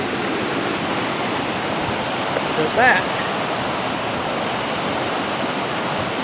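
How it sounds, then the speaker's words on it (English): Rushing water from a waterfall fills the scene with a steady, dense roar that never lets up, while a short voice briefly cuts in near the middle. "there's enough water coming over a waterfall somewhere"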